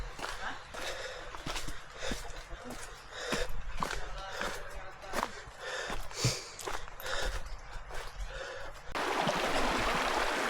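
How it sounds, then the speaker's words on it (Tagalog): Water rushes and trickles steadily nearby, with breathy sighs and rustling over it, and the flow grows louder and fuller near the end. "Yung mga uh, ah, ah tunog ng mga tubig na umaagos sa katela."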